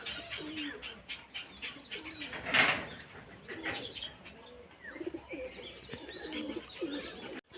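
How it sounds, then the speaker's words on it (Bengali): Adult pigeons kept at home fly high and coo. Soft, rhythmic cooing and chirps sound at middle distance, with a brief burst of wing-flapping partway through, and no talking. "পায়রাগুলো বেশ হাইট নিয়ে চলছে"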